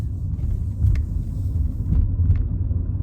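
Low, continuous rumble inside a car while driving, steady and close, with a few faint clicks and no talking.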